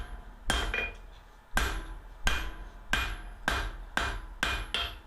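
Steel chisel stock being hammered to draw a long taper, about seven sharp ringing blows at a steady forging pace, close and loud with metallic clink after each strike.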